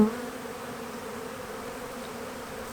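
Honey bees in an opened hive during a January inspection make a steady, dense buzz of many wings. It holds evenly throughout at a moderate level, with no talking.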